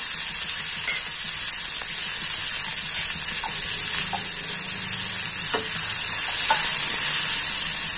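Tomatoes frying with salt in a pan for a matar poha snack, a constant close sizzle with scattered light scrapes and clicks of stirring throughout, no voices.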